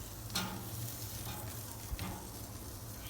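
Vegetables for fire-roasted salsa sizzle steadily on a Pit Barrel Cooker grill, with a continuous crackling hiss and a couple of soft knocks as they are turned.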